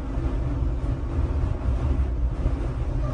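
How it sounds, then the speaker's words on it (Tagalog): Strong wind blasting across a microphone at a high lookout, a loud, continuous low roar with gusty buffeting and no talk over it. "Lakas ng hangin."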